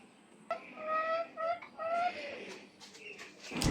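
Backyard hens clucking in a short series of close, fairly quiet calls, with a louder clatter at the end.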